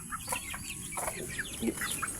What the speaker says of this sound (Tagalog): Samahan natin ang inahin dito sa ating bagong net